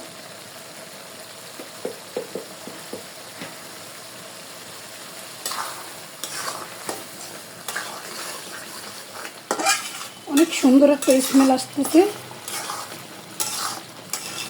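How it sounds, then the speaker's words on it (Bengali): Spoon scraping and stirring beef brain in a pan with a steady frying sizzle, clattering louder toward the end; a voice speaks briefly. "আর দুই মিনিটের জন্য একটু ভাজা ভাজা করে নেব"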